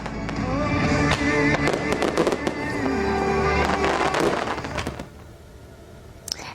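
A fireworks display in Japan bursts in rapid, overlapping booms and crackles for about five seconds, then fades to a quieter tail with one last sharp pop.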